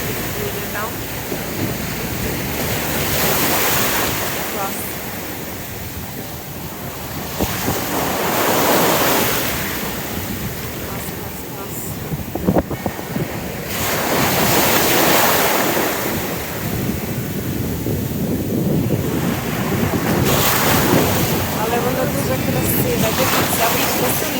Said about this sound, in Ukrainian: Трохи лячно від цих хвиль, але зовсім трохи.